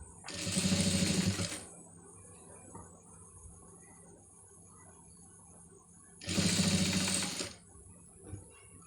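A sewing machine stitching a scallop design on a blouse runs in two loud bursts of rapid whirring, each about a second and a half long, separated by a quiet pause with faint background sounds.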